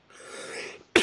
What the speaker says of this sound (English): coughing right in the mic